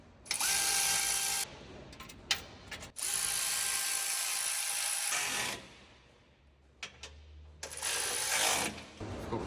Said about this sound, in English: I forgot what this thing's called. Torque wrench.